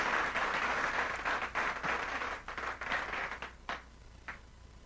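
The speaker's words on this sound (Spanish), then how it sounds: "Denle un aplauso a nuestro Dios en esta tarde." A church congregation applauds God during an afternoon service, a full burst of crowd clapping that gradually thins into scattered, isolated claps as it fades out.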